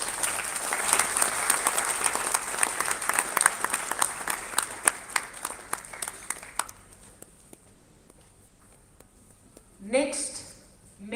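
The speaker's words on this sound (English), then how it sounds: "Please give a very big round of applause." An audience at a conference inaugural session gives dense, sustained applause as a guest is escorted to the dais. The clapping thins and fades after several seconds, then a voice speaks briefly near the end.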